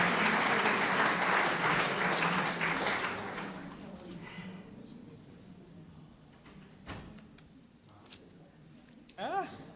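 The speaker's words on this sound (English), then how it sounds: "let's get a great picture of Miss Brown and give her a big round of applause." A school board meeting audience applauds Miss Brown, loud sustained clapping for about three seconds that fades out, followed by quieter room noise, a few knocks and a faint voice near the end.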